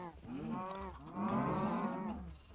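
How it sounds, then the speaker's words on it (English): A cow in a Minecraft modpack lets out two long, loud bellowing moos, one after the other, with a brief gap between them and no talking. "This cow is going crazy."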